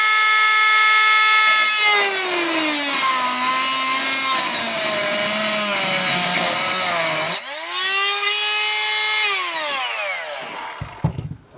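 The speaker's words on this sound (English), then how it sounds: "the old reliable Dremel with the cutoff disc on it" A Dremel rotary tool fitted with a cutoff disc slices into a cam screw, a loud, sustained high-pitched whine whose pitch dips and wavers as the disc bites, briefly spins back up, then cuts again before stopping.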